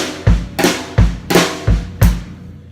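A drum kit plays a rock beat with flammed hits, heavy kick and snare strikes landing at a steady pulse and ringing cymbal wash, close and loud.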